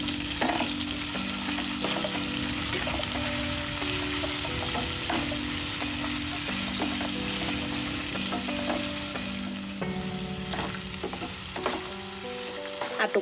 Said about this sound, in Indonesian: Aduk dan gongso-gongso sebentar. Kemudian menyusul telur puyuhnya.